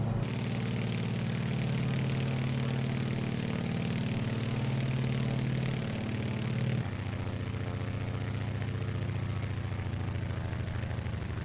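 A small propeller airplane drones steadily in flight, a loud continuous engine hum that shifts pitch and tone partway through, with no voices over it.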